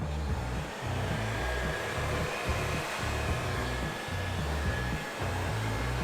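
A heat gun post-heats freshly applied vinyl wrap at a panel edge, giving a steady, close airflow roar with a low pulsing hum that stays constant throughout, with no talking.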